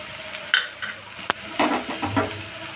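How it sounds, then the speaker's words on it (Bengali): Betho greens being stirred in a pan with a spatula, soft sizzle under a few sharp clinks and scrapes of utensil against metal, close and intermittent. "আমি শাকটাকে ভালো করে ভাজা ভাজা করে নিব"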